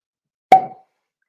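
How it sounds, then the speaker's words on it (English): A single sharp cork pop as the stopper is pulled out of a whiskey bottle, close and loud, ringing briefly before silence. "we love a cork pop"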